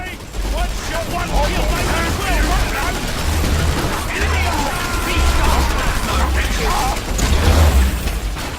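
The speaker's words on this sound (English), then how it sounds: "it's not a pop gun, it's a minigun." A minigun fires in Dawn of War 3 amid battle, with bursts of rapid mechanical gunfire, ratcheting clatter and crashes. Someone talks over the loud, busy combat noise.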